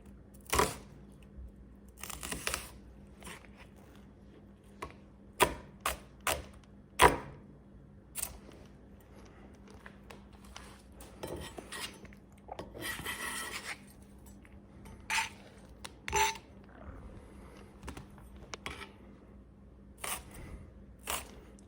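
Kitchen knife chopping an onion into one-inch pieces for vegetable stock, sharp scattered cutting clicks and thuds on a board at an uneven pace, close up over quiet room tone.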